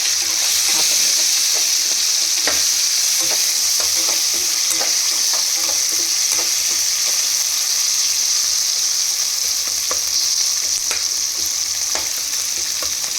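Chillies frying and being stirred in a pan: loud, steady sizzle with frequent scraping and clinking stir strokes, close and continuous, no talk.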